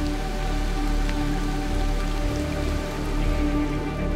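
Heavy rain falling in the Amazon rainforest, a dense, loud and continuous hiss of drops with no breaks and no voices.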